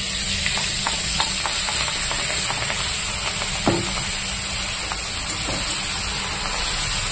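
Green chilli sizzles as it goes into hot oil in a home kitchen pan, a steady close frying hiss with faint crackles and a brief stir partway through, no voices.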